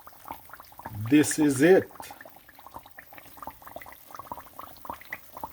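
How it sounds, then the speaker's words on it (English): Jamaican saltfish fritters fry slowly in a pan, giving a soft, steady crackle of small pops that runs through the clip, interrupted near the start by a brief spoken line. "flip it and let it slowly fry. Slowly fry."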